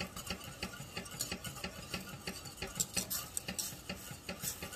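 Grits whisked in a pot, a steady, rapid rhythmic ticking and scraping of the whisk against the metal, close and fairly quiet throughout.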